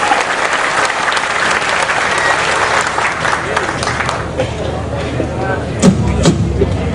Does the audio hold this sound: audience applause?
yes